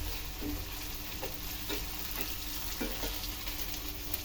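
Garlic and ginger paste frying in a pan for a potato, tomato and fish-head curry, a steady dense sizzle with occasional soft stirring knocks, fairly close and continuous with no voices.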